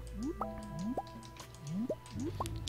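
Watering crops in the farming video game Stardew Valley, a series of wet droplet plops and rising liquid-filling sweeps repeating about every half second over a low music bed, with no speech.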